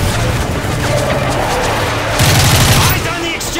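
Rapid bursts of automatic gunfire and heavy blasts from the Call of Duty: Modern Warfare 3 game, loud and continuous, with a denser burst near the end.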